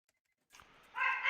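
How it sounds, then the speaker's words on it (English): A dog gives a short bark or two, close and moderately loud, after a moment of silence. "Dogs, fucking dogs."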